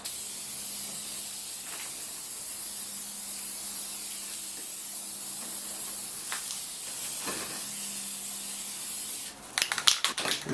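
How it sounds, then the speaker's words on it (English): A Dupli-Color self-etching primer aerosol can sprays a long, steady hiss of primer onto a chrome grill surround, close and even, ending in a few sharper rattling bursts. "we're ready for our first coat of primer, and I am using a dupli-color self-etching primer"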